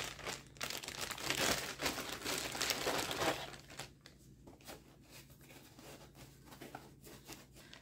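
A plastic Ziploc bag holding sneakers crinkles and rustles up close for a few seconds, then settles into quieter, sparse handling sounds.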